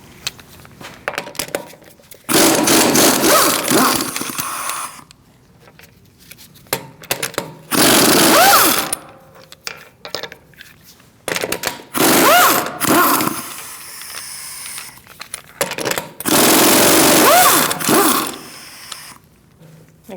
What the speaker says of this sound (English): Using a 17mm socket, we are going to remove our wheel.